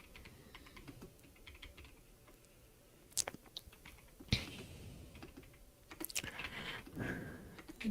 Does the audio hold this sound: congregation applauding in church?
no